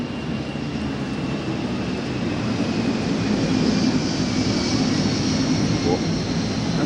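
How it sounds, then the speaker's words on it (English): An airliner passes low overhead above a baseball stadium in New York on a cloudy day, a loud, continuous broadband engine roar with a faint whine that builds slightly and fills the whole stretch. "sort of the rare planes that went right directly overhead"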